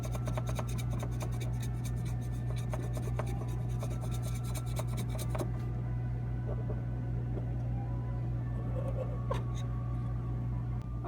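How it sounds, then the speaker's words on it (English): Dry brushing German gray paint around the hood of a 1/35 scale German 3-ton model truck: soft, steady bristle rubbing and scraping strokes, close and continuous, with a faint background hum. "we're going to do a little more dry brushing up around the hood and stuff."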